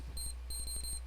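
A beeping SOS alarm from an NES video game, two short bursts of a high electronic tone over a steady low hum, heard alone.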